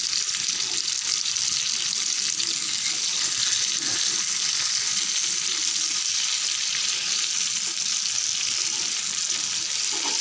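Seela fish fries steadily in a hot oil pan, a dense, even sizzle with crackling spatter running unbroken throughout, close and fairly loud, with no talking.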